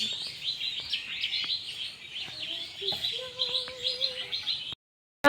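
Small birds chirp and tweet outdoors on a cloudy morning, with repeated bright calls and a few short whistled notes over soft background noise. The sound stops abruptly near the end.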